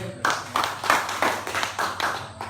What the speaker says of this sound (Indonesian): Tepuk tangan dulu Pak buat Pak Bukdu